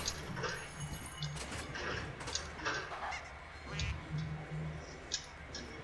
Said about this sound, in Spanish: Escucho un patito.